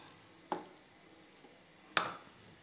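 Vegetable biryani stirred in a pot, giving two brief scraping, clinking strokes of a spoon against the pot, close and fairly faint, alone in a quiet room.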